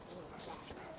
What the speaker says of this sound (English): I wanted to pet the puppy dog.